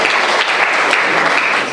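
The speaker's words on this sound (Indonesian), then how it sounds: "kita tepuk tangan sekali lagi bagi teman-teman ya" An audience at an Indonesian church service claps in a dense, steady burst of applause that fills the room, loud and close, for the whole short stretch.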